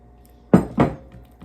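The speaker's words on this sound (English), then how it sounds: "I'm gonna try to turn it over in the bowl" Gluten-free breadstick dough turned over in an oil-coated bowl, making two soft, close thumps about a quarter second apart and then a faint settling rustle, with no talking.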